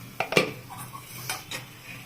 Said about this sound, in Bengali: এখন এই ঢাকনাটা দিয়ে চাপা ঢাকা দিয়ে দিব